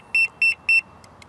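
Three short, loud electronic beeps in a quick even sequence from a Mivardi Combo M1350 fishing bite alarm receiver as it is switched on, with quiet background and no speech.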